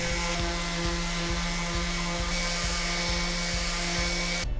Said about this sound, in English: I cleaned up any marks left by the router using my sander.